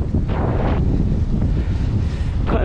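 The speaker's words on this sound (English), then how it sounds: "Windy today." Wind buffeting a helmet-mounted camera while a bike rides through city streets, a steady loud roar with no break and no talk.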